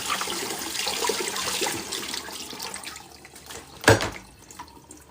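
Tap water runs broad and steady into a kitchen sink as a garlic press is rinsed, tapering off toward the end with a sharp clatter near the close; no talking.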